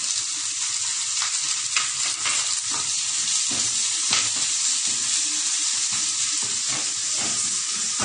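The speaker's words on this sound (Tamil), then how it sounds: "நல்லா வதங்கும், லைட்டா கொஞ்சம் உப்பு போட்டுக்கலாம். அப்பதான் சீக்கிரம் வதங்கும்." Vegetables with a pinch of salt sauté in a hot pan while ragi pakoda is prepared, giving a steady close sizzle with scraping stir strokes throughout and no voices.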